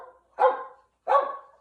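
Household dogs give two sharp, close barks about half a second apart, loud and clear with silence between and no talking.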